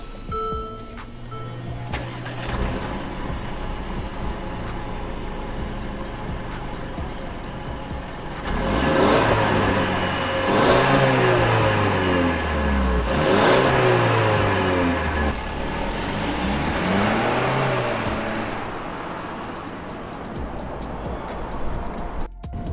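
A 2018 Mercedes-Benz CLA 250 4matic engine turns over and starts, then runs and revs several times, rising and falling in pitch, close and steady throughout.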